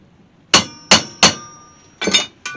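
A hammer strikes a blunt chisel to flatten stainless steel hood trim on a 1968 AMX: three sharp ringing metallic blows in quick succession, then two more. Loud and close, with a bright ring after each hit and no talking.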